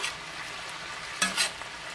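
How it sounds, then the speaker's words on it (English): Southern-style fried cabbage simmering and frying in a pan, a steady soft sizzle broken by two brief louder stirring scrapes midway, with no talking. "And we're going to let that simmer."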